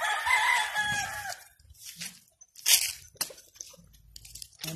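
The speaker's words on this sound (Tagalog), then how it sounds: "Yan po, ang ganda ng mga inahin, no? Pati yung mga rooster." Backyard farm chickens: a rooster crows loudly at the start, followed by scattered hen clucks and rustling sounds, fairly close with quiet gaps between.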